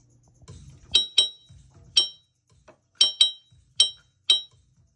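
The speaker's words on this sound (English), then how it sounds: "whatever I got around, I hit with this drumstick. And today it's going to be an empty whiskey glass" An empty whiskey glass is struck with a drumstick as percussion, giving seven bright, ringing clinks in a loose rhythm, close and clear with quiet rustling between hits.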